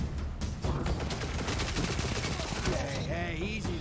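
Rapid auto rifle bursts in Destiny 2 crackle densely and loudly throughout, with a brief higher electronic effect near the end and no clear talk over it.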